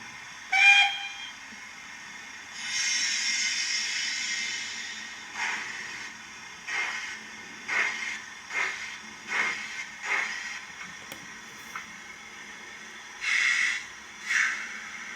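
Sound-fitted Curious Scale Buckjumper model steam locomotive on a Great Eastern model railway layout: an opening whistle toot, then a long hiss followed by a run of rhythmic chuffs and two final steam bursts, moderately quiet.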